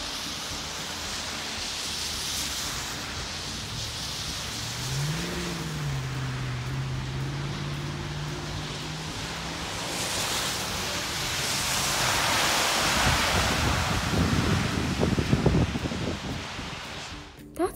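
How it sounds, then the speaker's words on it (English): City street traffic with cars and trucks passing, heard as a steady broadband rumble with a rising whoosh of a nearby vehicle toward the end. "Cars and trucks, traffic lights and people walking by."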